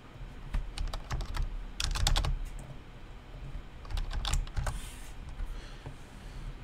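Fast bursts of keystrokes on a computer keyboard, close and clear, with short pauses between flurries of typing.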